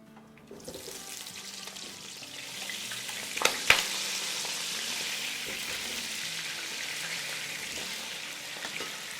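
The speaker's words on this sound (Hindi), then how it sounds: "चले यहाँ आलू हमारे फ्राई करते जा रहे हैं" Large peeled potato pieces, about a kilo, are frying in oil for chicken biryani, giving a steady soft sizzling hiss that starts abruptly and carries on with a couple of sharp clinks from a utensil.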